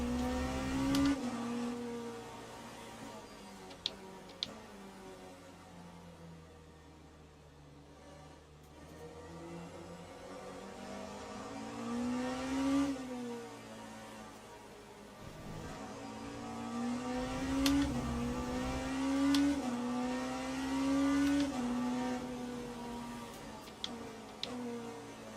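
Race cars lap Spa in Le Mans Ultimate, an engine note climbing and falling through gear changes with a steady whine and occasional ticks, close and continuous without any talk.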